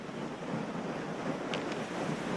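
Ocean waves wash against the shore in a steady broadband roar, with wind buffeting the microphone and no voices over the continuous surf.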